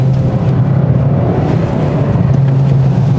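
A 2021 Hyundai Sonata N Line accelerating along a winding road, with a loud, steady engine drone and a low constant hum filling the cabin throughout.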